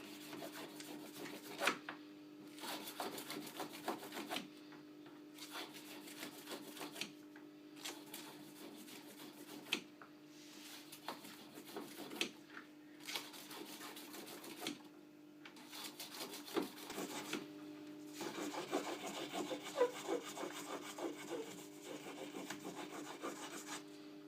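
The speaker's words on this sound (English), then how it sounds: "This will clean the file marks out of the inside of the ring." Sandpaper wrapped around a stick is worked back and forth inside a handmade wedding ring in repeated rasping bursts of a few seconds each, quiet and close, with short pauses between strokes and no voices.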